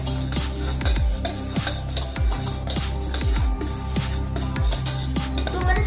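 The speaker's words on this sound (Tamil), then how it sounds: "எல்லாத்தையும் நல்லா வதக்கிட்டு" Mushrooms and vegetables sautéing in a pan for roadside-style mushroom soup, with a utensil stirring and scraping steadily against the metal over a constant sizzle, close and fairly loud throughout.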